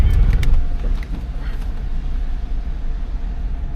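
A 1996 GMC Yukon with a new engine idles steadily after starting, a low continuous rumble throughout with a slightly louder burst at the start.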